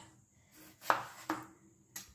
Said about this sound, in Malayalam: ഇനി നമുക്ക് തക്കാളിയിൽ അതിങ്ങനെ നാല് കഷ്ണമായിട്ട് മുറിച്ചെടുക്കാം